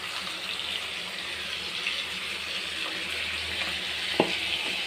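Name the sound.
frying with cumin in oil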